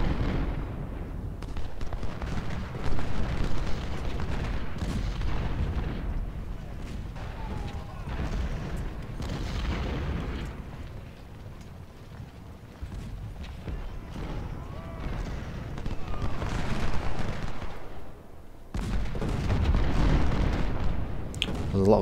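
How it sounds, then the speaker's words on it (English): Cannon and artillery fire in the Civil War video game Ultimate General: Civil War, with repeated booming blasts and rumbling battle noise rising and falling over about twenty seconds. "We'll take lumps out of you with the cannon until that point."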